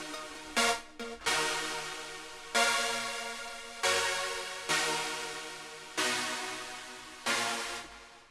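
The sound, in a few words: saw synth chord from Silent in a trap beat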